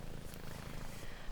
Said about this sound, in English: they came across a wee kitten purring away on the side of the path